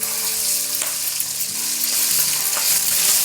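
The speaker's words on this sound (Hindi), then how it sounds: "इसको थोड़ा सा सौटे करेंगे।" Garlic and ginger paste sautéing in a hot pan gives a steady, close sizzle and crackle throughout, with occasional light clinks of a utensil against the pan.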